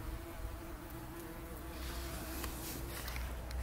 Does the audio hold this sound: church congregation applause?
no